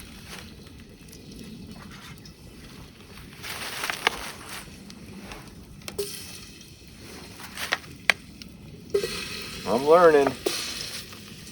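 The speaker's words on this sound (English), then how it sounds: "Well, there is a sizzle" Food sizzles steadily in a hot pan, with stirring scrapes and a brief spoken remark over the crackle.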